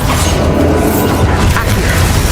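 A loud, heavy blast from the Bombarda explosion spell in Hogwarts Legacy, with crashing impacts and whooshing effects during a chaotic spell-casting fight against Ranrock; dense, sustained and close throughout.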